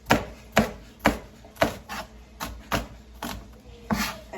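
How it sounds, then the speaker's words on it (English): Onions are sliced thin with a knife on a cutting board, giving about ten sharp, close chops in a steady rhythm, with no talking over them. "I'm gonna keep chopping away at my onions here."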